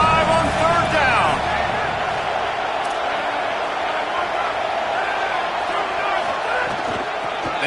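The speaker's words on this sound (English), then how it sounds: "The Buckeye crowd alive on 3rd down." A large Ohio State Buckeye football stadium crowd roars steadily on third down, a dense, loud, sustained wash of cheering with no clear breaks.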